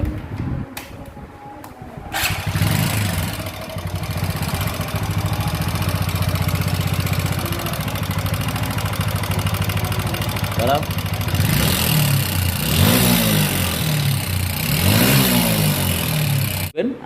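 A TVS Apache RTR 4V motorcycle engine with a bad engine sound runs with a rough, raspy tone, revving a few times toward the end; a voice speaks briefly near the start.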